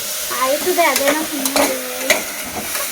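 Tomatoes frying in a pan give a steady broadband sizzle with occasional stirring clicks, while a voice talks over the cooking noise.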